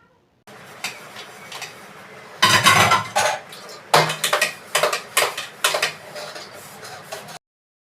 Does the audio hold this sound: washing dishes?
yes